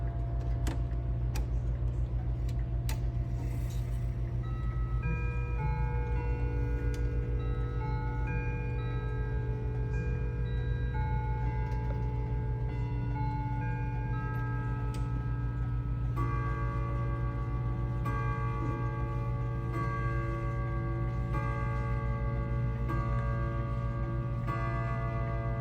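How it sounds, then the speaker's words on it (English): A wall clock plays the Westminster chime, with sustained bell-like tones stepping through the melody over a steady ticking, ringing continuously and fairly close throughout. "And then here's Westminster."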